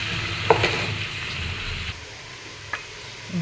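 Squid hitting a pan of browned garlic and onion and starting to sauté, a soft steady sizzle with a couple of brief clinks near the start and again later.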